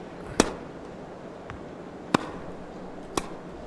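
Tennis ball strikes in the Tennis World Tour video game, three sharp, crisp hits spaced apart over faint crowd ambience, the first two loudest.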